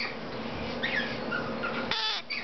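Raspy, insistent calls and squawks from baby rose-breasted cockatoo chicks repeat close by, ending in a louder harsh screech.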